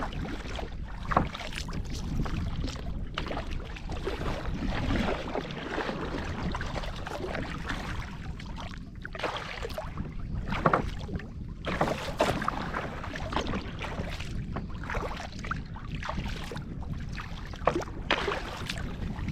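A kayak moves through choppy waves on a lake, its hull slapping the water over and over with irregular thumps beneath steady wind rush on the microphone.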